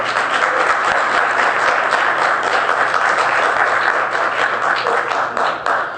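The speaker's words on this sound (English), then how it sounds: "I want to thank the audience for clapping in spite of the admonitions of the mayor" Sustained, loud applause from an audience at a Palo Alto city council meeting, steady clapping throughout with no break, tapering slightly at the end.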